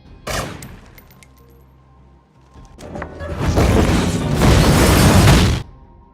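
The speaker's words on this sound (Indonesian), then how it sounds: "Kemudian Frank ditembak di bagian perut, lalu tempat itu diledakkan." Action-film gunfire and an explosion: a sharp early shot, then a loud sustained burst of rapid shots and booming blast noise lasting a few seconds before cutting off.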